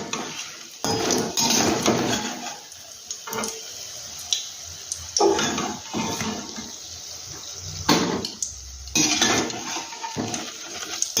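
A metal pan of freshly fried bottle gourd dumplings is lifted off a kitchen stove, giving loud clanks and scrapes of cookware with splashy, watery clatter in between.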